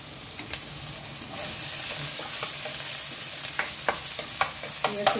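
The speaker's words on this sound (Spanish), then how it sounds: "Voy a echar el ajo con el pion." Garlic and pepper sautéing in a pan for a fish stew, a steady close sizzle with scattered sharp stirring clicks and scrapes, growing more frequent toward the end, no voices.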